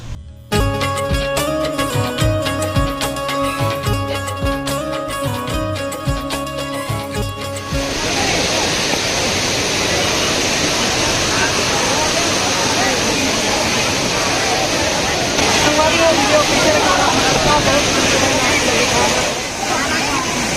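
The Ghatarani waterfall in Chhattisgarh roars as a dense, steady rush of falling water that fills the whole stretch, starting after an opening burst of music and continuing loudly with faint voices in the background.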